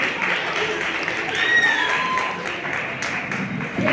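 A crowd at a study center carnival applauds, a dense patter of clapping with a few voices mixed in.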